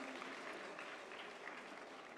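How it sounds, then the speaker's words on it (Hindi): Steady, dense applause from an audience honouring award winners at a National Energy Conservation Day 2023 ceremony, sustained at an even level throughout with no pauses. "Please put your hands together. A big round of applause."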